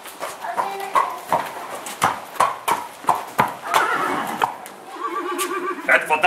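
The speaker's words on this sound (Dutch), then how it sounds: "Theo, de dames gaan lekker aan het paardrijden." A horse in a stable neighs and whinnies several times, loud and close, with shuffling hoof clops and rustling between the calls.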